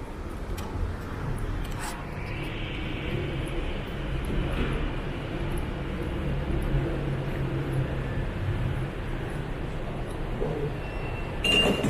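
Jakarta MRT train at CSW ASEAN station: a steady, low rumble of the train and station that holds even for the whole stretch, with no voices.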